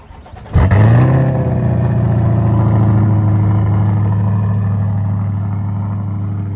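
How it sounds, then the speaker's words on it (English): A Corvette engine with a Fabspeed aftermarket exhaust fires up with a sudden bark, then settles into a deep, loud, rumbling idle through a throaty exhaust, close and steady. "That is a Fabspeed exhaust."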